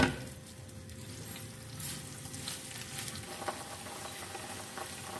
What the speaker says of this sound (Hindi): दोनों साइड पे घी लगा के हम पराठे को फ्राई कर लेते हैं।